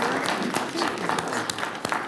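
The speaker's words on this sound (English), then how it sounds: "Let's give a round of applause to our staff and all of our volunteers who work on our committees" A short burst of applause for staff and volunteers at a county commissioners board meeting, scattered hands clapping at moderate level for about two seconds.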